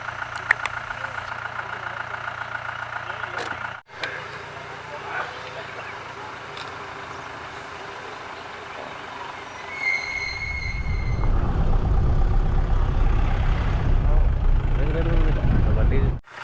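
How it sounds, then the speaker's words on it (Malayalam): A roadside near Masinagudi, where deer stand by the verge. Soft background hum and voices give way, after about ten seconds, to a loud, rough, close auto-rickshaw engine idling steadily under ongoing talk. "എന്താണോ ഓട്ടോ അല്ലേ?"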